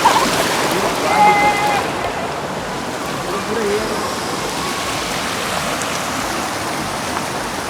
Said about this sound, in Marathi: नेचरचं असं सौंदर्य आहे की बघू शकता तुम्ही तर पाण्याचा आवाज